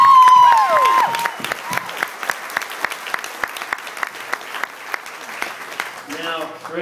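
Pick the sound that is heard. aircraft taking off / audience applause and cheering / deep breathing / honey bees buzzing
audience applause and cheering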